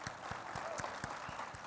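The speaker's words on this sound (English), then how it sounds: "let's give him a warm round of applause from all of our distiller community" Faint applause from a distillers' conference audience for a presenter, a soft, fairly even patter of hands with a few distinct, regularly spaced claps, heard from a distance.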